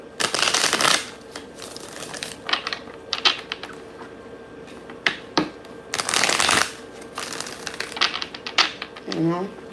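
Playing cards shuffled repeatedly, with several crisp riffle bursts and lighter snaps and taps between them. The handling is close, and faint speech sits underneath.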